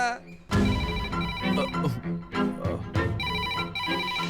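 In a Hindi-dubbed film scene, a telephone rings with repeated electronic tones while people talk over it in Hindi, the ringing steady and fairly loud throughout.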